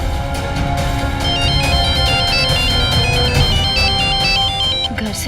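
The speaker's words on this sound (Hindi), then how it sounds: "घर से फोन आ रहा है ना" An incoming phone call rings as a repeating electronic ringtone melody, loud and steady through the whole stretch over a busy background of music and room sound, in a Hindi TV drama scene.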